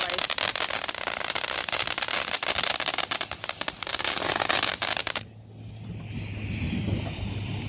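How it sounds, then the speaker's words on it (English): Fourth of July fireworks going off all around, a dense crackle of rapid pops and bangs for about five seconds, then it cuts to quieter outdoor background with a faint low hum. "Yeah, there's a lot of fireworks being shot all over the place."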